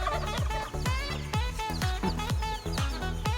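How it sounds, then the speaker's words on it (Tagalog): Native free-range chickens cluck and call busily around feeding time on a small farm, a dense overlapping flock chorus heard close and loud throughout. "Yan po ay mga native chicken."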